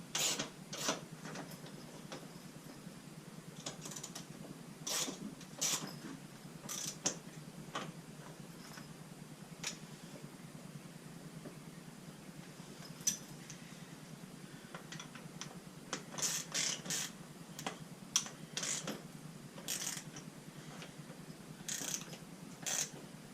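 A ratchet tightens bolts on a backrest bracket for a 2021 Can-Am Spyder RT in a shed, giving bursts of quick, close clicking with short pauses between strokes and no talk.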